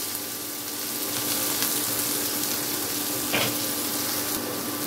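Carrots and beans sauté in a pan with a steady, close sizzle, joined by occasional soft stirring scrapes and a brief louder hiss near the end, and no one talking.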